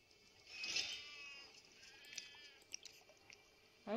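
Cat meowing in the video game Sheltered, one drawn-out plaintive call followed by a few fainter, shorter sounds at low volume, no speech.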